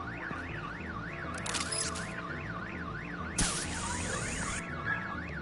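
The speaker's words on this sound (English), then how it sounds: "My bat stunner would set off the car alarm." A car alarm in the Batman: The Enemy Within video game, set off by a bat stunner, whoops in a steady rising-and-falling wail, with two bursts of hissing noise cutting in over it.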